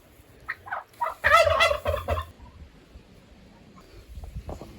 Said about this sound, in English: Here are the other turkeys.